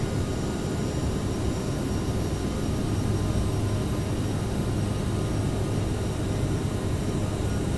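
The CRJ regional jet's engines roar steadily from the cockpit in Microsoft Flight Simulator 2020 as it climbs out of Detroit, a constant, dense broadband rumble with a faint high whine and no voices.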